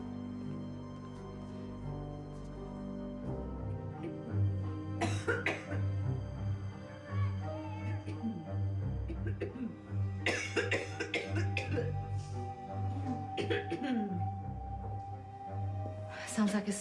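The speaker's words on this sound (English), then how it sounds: "Sounds like a smoker's cough." A person with a smoker's cough coughs in harsh, raspy bursts, repeated in several rough fits with throat clearing between, over a low background hum.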